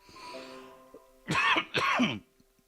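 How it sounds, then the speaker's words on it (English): Two harsh, close coughs in quick succession, preceded by a faint hum, then quiet. "I'm getting so sympathetic, I'm coughing."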